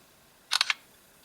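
A voice-triggered shutter on an LG G2 smartphone camera snaps off three quick, bright clicks in rapid succession, close up and isolated in a quiet room.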